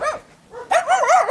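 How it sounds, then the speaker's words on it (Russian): A dog barks on a street in the Russian stanitsa of Migulinskaya: a short bark, a brief pause, then a longer string of whining, yipping barks, close and loud. "собачки гавкает."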